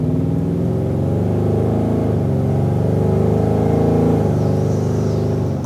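A 1973 Ford Bronco resto mod's engine revs loudly and steadily up close, a deep throaty drone that swells slightly midway, with no talking.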